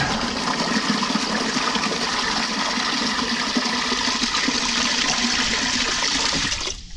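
Water drains out of a vapor blaster through a hose, a loud continuous rushing gush that holds steady throughout before cutting off abruptly at the end.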